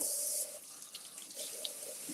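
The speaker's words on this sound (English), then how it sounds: "Let me just give these a rinse." Dishes being rinsed under a running kitchen tap, a steady hiss of water with brief splashy shifts as the flow changes, close and alone.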